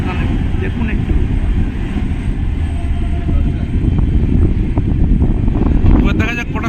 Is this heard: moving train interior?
yes